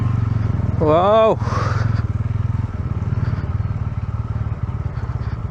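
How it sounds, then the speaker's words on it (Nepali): A motorcycle rides along a muddy hill road on the way from Kathmandu to Dolakha, its engine droning steadily up close, with a short rising tonal blip early on. "हाम्रो बाइक चाहिँ फेरि यस्तो हिलोमा नि कुद्छ"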